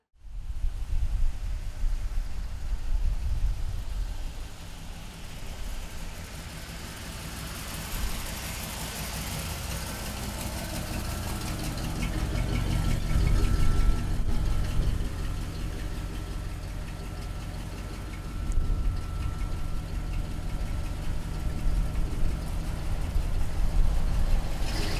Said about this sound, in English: Got an awesome sounding exhaust system on it